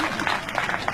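A crowd claps in response to a speech, a dense spread of applause with scattered sharper claps, moderately loud, with a voice faintly mixed in.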